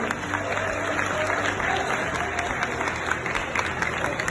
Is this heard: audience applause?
yes